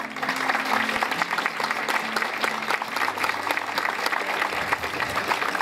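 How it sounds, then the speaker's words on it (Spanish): Sustained audience applause at a school inauguration ceremony, a steady mass of clapping from a gathered crowd with faint voices underneath. "aplausos por favor para Avivará"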